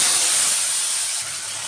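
Cumin, bay leaf and dried chilli sizzle in hot oil after fried eggplant, a loud continuous hiss that eases slightly partway through.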